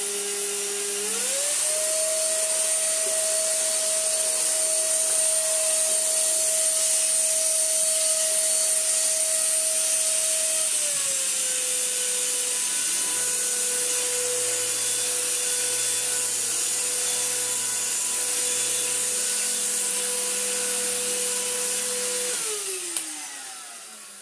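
A restored Vorwerk VK135 vacuum cleaner drones continuously with a steady motor whine whose pitch steps down and shifts as the load changes, loud and close throughout.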